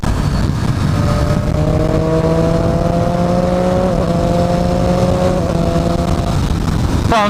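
A Triumph Street Triple 765 RS motorcycle accelerates hard on a test ride, its loud engine rising in pitch through several quick-shifted gears with brief dips between them, then winding off at the end.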